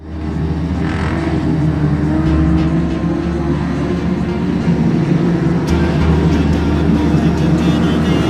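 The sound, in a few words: junior sedan race cars starting a speedway heat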